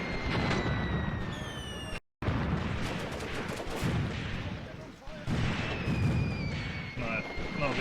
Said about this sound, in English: Now the artillery really is landing, including my mortars and everything.